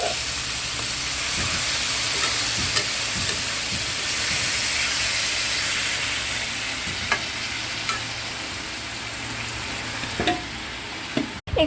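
Marinated chicken, spiced and dressed with lemon, sizzles steadily in a hot wok for a chicken curry, a continuous loud frying hiss broken by occasional clicks and scrapes of stirring, with no voices.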